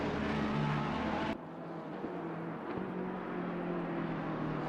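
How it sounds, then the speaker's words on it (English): McLaren GT3 race car in a racing video game, a steady mid-distance engine drone with a sharp cut in level after the first second, continuing more quietly underneath. "I can hear the McLaren's engine"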